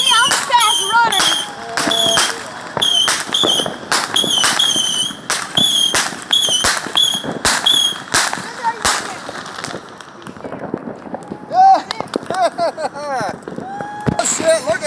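Fourth of July fireworks and firecrackers go off in a rapid series of sharp, loud bangs and crackles, with voices talking and calling out between the blasts outdoors.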